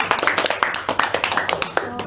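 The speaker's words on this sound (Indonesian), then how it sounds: "Boleh tepuk tangan?" A classroom group claps hands during a history microteaching session, a rapid run of sharp, fairly close claps in an uneven rhythm, with some voices mixed in.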